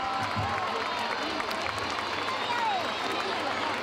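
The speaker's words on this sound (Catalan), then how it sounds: "Un bon aplaudiment!" Crowd in a town square greeting the Three Kings' arrival with broad, sustained applause and cheering, a dense wash of clapping and voices that holds steady throughout at a moderate distance.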